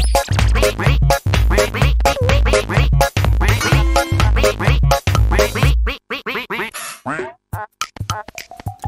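A cartoon duck quacks again and again in rapid, loud bursts over a busy animated music bed, and the quacking thins out toward the end into sparser calls.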